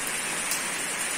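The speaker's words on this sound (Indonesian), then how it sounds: "hujan agak gerimis lebat lah, hujan dikit-dikit." Rain falls steadily in a continuous, even hiss of drops on surfaces, with nothing else audible over its short span.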